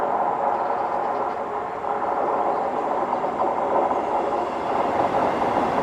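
A Northern train pulls into Cramlington station, a steady loud rumble of wheels and engine with faint rhythmic rail clatter throughout.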